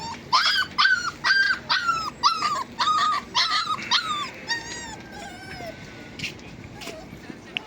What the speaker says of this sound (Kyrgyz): бул жерде мына мындай күчүктөр бар экен